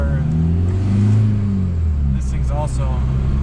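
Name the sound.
diesel car engine revving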